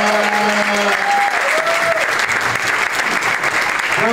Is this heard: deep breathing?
no